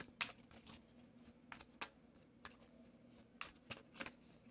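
Tarot cards being shuffled in quick, crisp bursts of riffling and tapping, close up and fairly quiet, with no talking.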